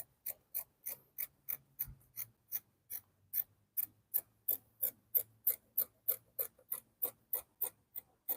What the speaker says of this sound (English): and just cut it